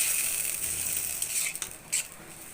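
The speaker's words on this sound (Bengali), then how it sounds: "লবণটা দিয়ে ভালোভাবে নেড়ে চেড়ে আমি ঢাকনা দিয়ে ঢেকে দিব।" Tomato fry sizzling in a pan with salt added, a steady bright hiss under close scraping and clinking from the stirring utensil, the strokes sharpening near the end.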